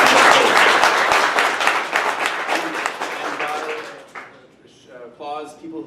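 Audience applause at a live political discussion event, loud dense clapping that fades over about four seconds before a voice begins talking.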